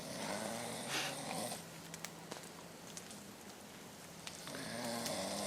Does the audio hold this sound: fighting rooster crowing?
no